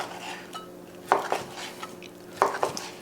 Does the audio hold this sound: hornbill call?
no